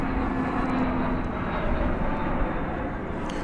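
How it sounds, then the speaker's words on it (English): A Spirit Airlines Airbus A320neo departs DFW Airport for Los Angeles, a steady loud jet engine roar with a faint high whine that holds throughout. "that Spirit Airbus A320neo going to Los Angeles"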